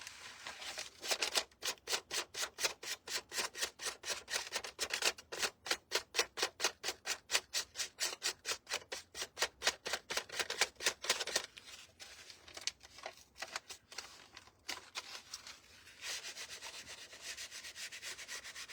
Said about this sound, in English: This is that little 3M sander.